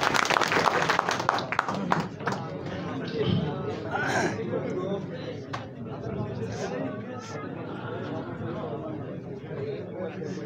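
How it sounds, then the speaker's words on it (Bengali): Applause from a conference audience at a raffle draw, strongest at the start as a patter of claps, then fading into crowd chatter while voices talk over it. "জোরে একটু জোরে স্যারের জন্য একটা করতালি চাই"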